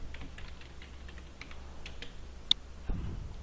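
Typing on a computer keyboard during data entry, a light, faint, irregular patter of key taps with a slightly louder click near the end, alone over a low room hum.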